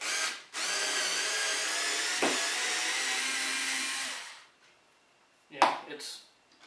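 A Ryobi 4V cordless screwdriver whirs loudly for about four seconds driving 1.25-inch screws into plywood, winds down, then a short second burst and a clunk follow.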